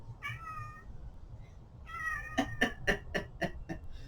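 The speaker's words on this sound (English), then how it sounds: "these are this crazy cats who like to eat food" Several cats meow outdoors nearby, first a couple of drawn-out calls and then a quick run of short, sharp meows.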